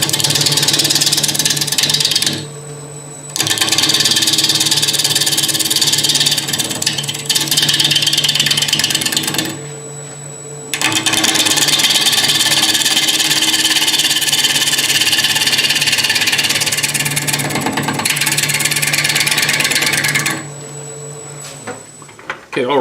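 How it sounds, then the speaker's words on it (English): A wood lathe spins a green, freshly cut bowl blank with a steady, loud motor whir and hum. The sound drops out briefly three times, then resumes. "There's a little vibration of the lathe, so I'm going to back it off just a little bit below that."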